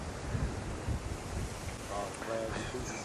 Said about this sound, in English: It's mighty windy out here.